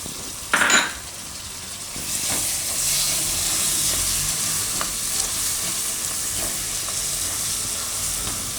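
Tomatoes dropped into a hot pan of green chickpea and eggplant oro gravy in a home kitchen, a sharp splash then a steady loud sizzle with faint clinks of a stirring utensil.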